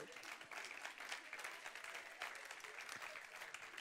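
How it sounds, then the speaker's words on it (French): An audience applauding during a church sermon, a steady dense patter of clapping lasting throughout, moderately loud and fairly close. "Je le vois parce que vous applaudissez sur le téléphone"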